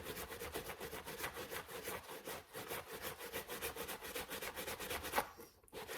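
Suede New Balance shoes are scrubbed with a brush, giving a faint, rhythmic back-and-forth rasping in quick regular strokes throughout, close by and with no voices.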